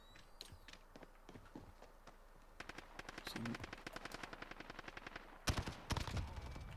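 Gunfire in Call of Duty: Modern Warfare plays out as rapid bursts of automatic shots, steady at first and building to a louder, denser volley near the end, with a voice briefly heard under it.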